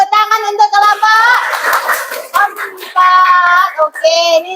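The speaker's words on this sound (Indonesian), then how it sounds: "Tepuk tangan untuk kelompok" Children in a classroom applaud a student group, a burst of clapping mixed with excited young voices and cheering over several seconds, close and loud.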